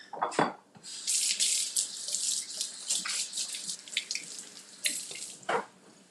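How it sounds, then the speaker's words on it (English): Hands being washed under a running kitchen tap, close and steady water splashing with irregular bursts as hands move through the stream, with no talking. "Wash my hands."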